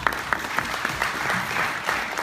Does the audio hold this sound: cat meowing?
no